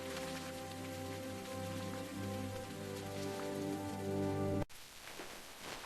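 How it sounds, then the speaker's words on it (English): Steady rain falls with a dense, even patter and a tonal hum beneath, then cuts abruptly to a thinner, quieter shower. "Oh no, rain!"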